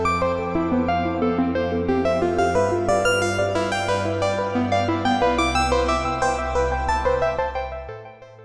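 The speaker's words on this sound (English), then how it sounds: "we're gonna build a voice that is built up around arpeggiated chords" A synthesizer patch built in VCV Rack 2 plays arpeggiated chords, with quick, bright repeated notes rippling over a sustained bass that shifts pitch every few seconds, steady and loud throughout.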